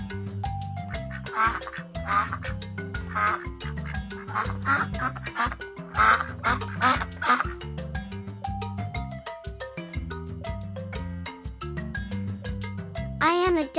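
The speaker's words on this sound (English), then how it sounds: "I am a duck." A cartoon-style duck quacks repeatedly in a children's farm-animal listening game, the quacks riding over a bouncy musical backing with a steady beat throughout.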